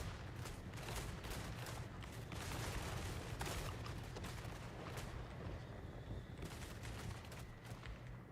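Ranked infantry in Total War Warhammer 3 let off a ragged volley of gunfire, a dense crackle of shots layered over a continuous rumble of battle, sustained and fairly busy, with no talking.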